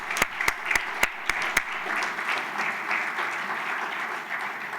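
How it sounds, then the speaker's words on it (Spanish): A Sunday church congregation applauds, a few sharp close claps ringing out first before spreading into a steady, moderately loud wash of clapping from the room. "un aplauso por esta familia"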